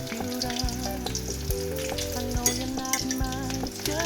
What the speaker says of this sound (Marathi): इथं टाकायचं तेजपत्ता, टाकायचा कांदा.